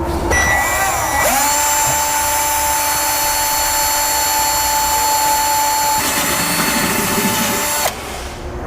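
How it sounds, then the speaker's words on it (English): A power drill bores holes through the bed of a 2014 Ford F-series pickup truck, a loud, steady, high whine running for several seconds, shifting pitch partway through before cutting off. "When those marked, we'll drill those out."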